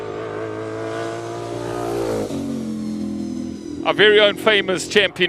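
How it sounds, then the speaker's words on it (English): A classic V8 race car engine revs steadily and then shifts to a lower drone at a classic car speed event in Cape Town, loud and close, with an announcer talking over it. "Nice, clean sounding V8 from that era."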